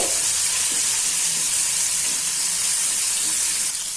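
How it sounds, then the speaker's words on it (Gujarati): Spinach sizzles and sautés with softened tomato in a pan, a steady loud hiss of frying with soft stirring textures running continuously for four seconds, close up and without talk. "હવે તેમાં આપણે પાલક નાખી દઈશું અને તેને પણ આપણે સાતળી લેશું"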